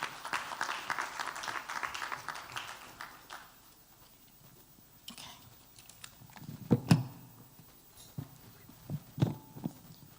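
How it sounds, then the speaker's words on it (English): Applause from an audience at a graduation and awards conference fills the first few seconds, then fades into scattered claps and knocks against a quiet room. "Let's give him a round of applause as he comes up."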